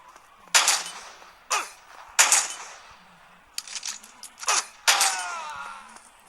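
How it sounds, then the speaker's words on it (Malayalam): Shotgun blasts from the Western shooter game West Gunfighter: about six loud, sharp cracks at irregular intervals, each with a short ringing decay, with no voices over them. "ഇനി ഇതിൽ കൂടെ വരും ഷോട്ട് ഗൺ ഷോട്ട്."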